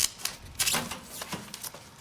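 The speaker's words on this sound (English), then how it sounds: "So that you can pull out your shelves." Metal shelves pulled out of a Masterbuilt electric smoker, a string of sharp, close clicks and light rattles coming in irregular bursts over a quiet background, with no voices.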